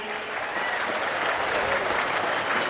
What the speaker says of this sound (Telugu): గట్టిగా చప్పట్లు కొట్టి ఆయన అభినందించండి.